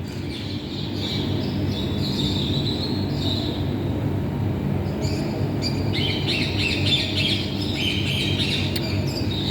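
Birds squawk and chirp repeatedly above a steady low rumble, calls overlapping throughout.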